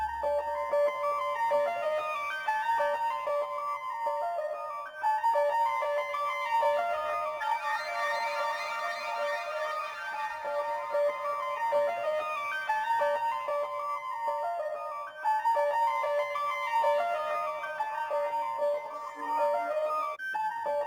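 Bright, bell-like synth melody in an R&B beat made in FL Studio loops in a repeating pattern, with the texture shifting and swelling through automated effect changes, steady and clear, no voices.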